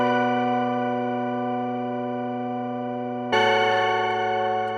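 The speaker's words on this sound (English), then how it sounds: "And then we have this diva patch called synth class," A Diva software synth patch named synth class plays a sustained, bright layered chord with steady harmonics, then shifts to a fuller, brighter chord around the three-second mark; loud, continuous, and with no voices.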